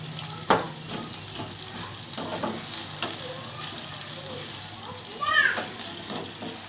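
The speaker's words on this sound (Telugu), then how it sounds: "ఆయిల్ పోసుకొని ఆనియన్స్ వేసుకుంది ఇప్పుడే." Onions fry in oil in a pan for tamarind chutney, giving a constant low sizzle with occasional stirring clatter. People talk over the sizzle.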